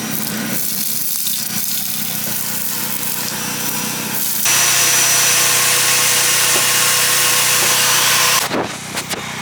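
A vacuum sucks up carbon powder, a loud constant whooshing roar that rises in pitch and intensity partway through, steady for several seconds, then dips with a brief sputter near the end.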